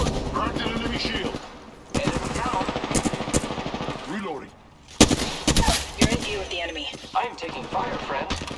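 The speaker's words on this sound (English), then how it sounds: "Opening fire on the enemy." Rapid automatic gunfire from an Apex Legends firefight, loud and close in repeated bursts with brief pauses, mixed with impacts and game announcer voice lines.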